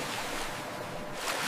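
Blue ocean water rushes into a trench in a cartoon, a steady broadband surf-like wash with a windy hiss, swelling slightly at the end.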